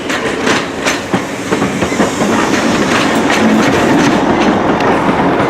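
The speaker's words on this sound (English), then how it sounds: "We'll film a few trains here." A train rolls past close by at Shrewsbury station, wheels clattering rhythmically over rail joints with a steady rumble and occasional faint squeal.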